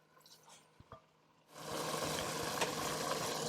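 Ground beef crumbles browning in a pot for homemade chili, starting with a few soft taps and scrapes of stirring, then a loud steady sizzle of frying that swells up and holds.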